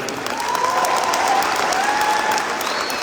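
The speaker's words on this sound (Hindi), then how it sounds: "आप खड़े होकर लोग ताली बजा रहे हैं" An audience applauding at an awards gathering for top achievers: dense, sustained clapping from a large crowd, steady and fairly loud for the whole stretch, with a few faint voices mixed into the crowd.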